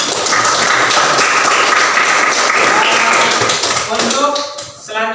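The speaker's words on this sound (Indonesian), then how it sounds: "Tepuk tangan buat kita semua." A classroom of students claps together in a loud, dense burst that fades over about five seconds, with a few voices calling out near the end.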